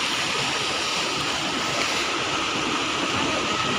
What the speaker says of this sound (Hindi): ये देखिए मेरे गांव का छोटा सा नदी, छोटा सा झरना आप बोल सकते हो